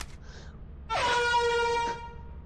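A single sustained, brassy air horn blast in a video game with strong harmonics, loud and close, lasting about a second before cutting off.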